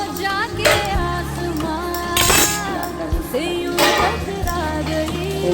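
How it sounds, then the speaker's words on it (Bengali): A metal kadhai (wok) is washed in a kitchen sink: loud, close clanks and scrapes of metal against metal ring out in irregular bursts over a background hiss. "কড়াইটা আমি ধুয়ে নেবো"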